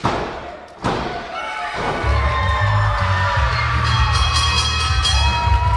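A wrestler thrown off the top turnbuckle lands on the ring at an ACW indoor show, a loud thud followed by a second impact, then a crowd of excited kids cheering and shouting steadily.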